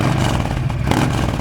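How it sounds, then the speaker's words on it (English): A Yamaha Stryker motorcycle with a 2-in-1 exhaust and a Cobra slip-on accelerates, its engine a loud, steady low rumble with some rattly clatter throughout. "The Stryker exhaust, the 2-in-1, it rattles a little bit, even the stock exhaust, but this one's got a Cobra slip-on."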